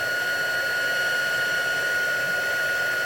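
A heat embossing tool blows a steady, loud stream of hot air across clear embossing paste, making a continuous whir with a constant high whine that does not change from start to finish.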